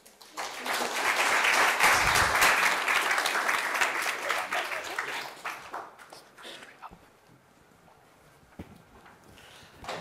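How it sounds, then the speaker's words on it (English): Audience applause for a panel being welcomed onto a stage, loud and steady clapping for about five seconds before fading into scattered claps and room noise. "please, a round of applause for our panel"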